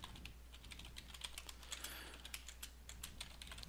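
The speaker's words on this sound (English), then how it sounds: "So we'll type in digit and we'll have our while loop again." Rapid, irregular clicking of a computer keyboard being typed on while coding a Minecraft Feed the Beast mining turtle program, close and steady with many distinct keystrokes over a low constant hum.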